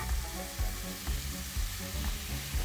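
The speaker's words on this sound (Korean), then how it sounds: "아까 만들었던 날개 용액을 부어주면 됩니다" Batter slurry poured over gyoza frying in a pan, giving a steady close sizzle and crackle with low-end bumps and scrapes throughout, no talking.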